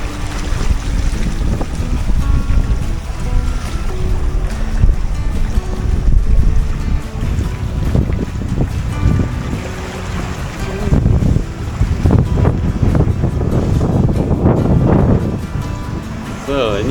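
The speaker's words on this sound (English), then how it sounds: "it's very bumpy and quite windy" Strong wind and rough, choppy sea batter a sailboat on an offshore passage from Curaçao to Panama, with continuous loud microphone buffeting and surges of crashing water, while a voice talks faintly underneath.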